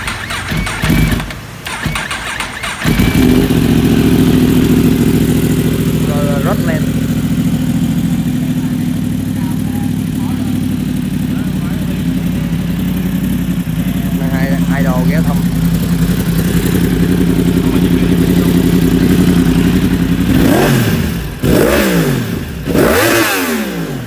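A BMW S1000RR and a 2018 Yamaha R1 fitted with full Akrapovic exhaust systems start up and idle with a loud, steady engine rumble, short throttle blips rising over it, close by with some talk around.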